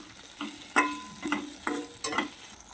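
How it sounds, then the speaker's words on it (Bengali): Garlic and green chillies frying in hot oil in a pan, a steady close sizzle broken by about five sharp scraping stirs of a utensil, with no talking. "রসুনটা আমার ভাজা হয়ে গেছে দিয়ে দেবো কিছু কাঁচা লঙ্কা"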